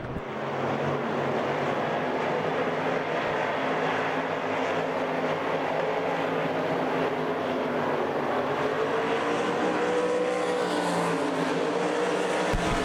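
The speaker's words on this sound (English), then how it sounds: "Cars sliding up the track a little bit." Dirt track race cars slide around Port Royal Speedway, their engines a steady, sustained roar from a pack of cars at middle distance, droning on without a break.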